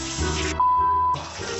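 Shower water pours steadily in a run-down hotel bathroom, a broad close hiss that breaks off briefly mid-clip while a thin tone sounds, then resumes.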